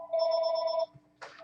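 A telephone rings with a bright, sustained electronic trill for most of a second, stops, then a brief clatter follows in an otherwise quiet room.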